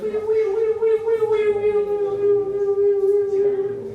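A voice imitates an approaching ambulance siren with a sustained, wavering wail, holding one pitch that slowly rises and dips, loud and close throughout.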